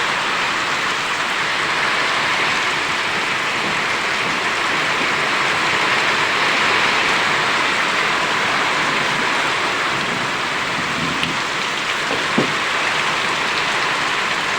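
Heavy rain pours steadily onto a farm, a dense, loud, unbroken hiss that fills the whole stretch with no voices.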